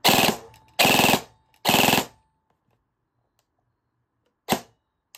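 An FN SCAR rifle fires three loud full-auto bursts in quick succession, each followed by a short decay, then after a pause of silence a single sharp shot rings out.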